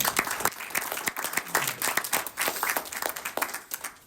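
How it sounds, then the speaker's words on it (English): An audience claps in a round of applause after a talk, dense sharp clapping close and loud, with a little crowd noise and no speech over it. "Let's give him a round of applause."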